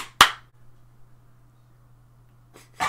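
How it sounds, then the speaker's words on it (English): A single sharp hand clap, loud and close, followed by near silence with a faint low hum, then another short burst at the end. "We gotta do the good old nobody cares podcast clap"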